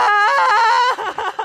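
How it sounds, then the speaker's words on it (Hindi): A loud, sustained scream bursts out in a dramatic story scene, holding a harsh tone for most of a second before breaking into shorter wavering sobs and wails at close range. "नैन्सी के कानों में एक जोर की चीख सुनाई दी।"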